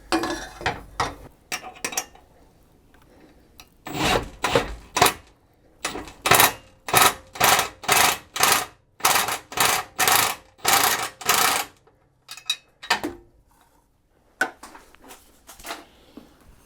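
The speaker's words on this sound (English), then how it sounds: "All right, so I got my 5/8 on the impact gun." An impact gun with a 5/8 socket tightens a bolt on a Rock Hard 4X4 tire carrier bumper being fitted to a Jeep TJ, firing in a long run of sharp, loud rattling bursts with short gaps, framed by a few shorter bursts before and after.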